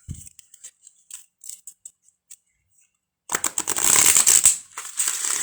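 Light card flicks and taps on a matte oracle card deck, then a dense burst of rapid riffling as the deck is shuffled, close up.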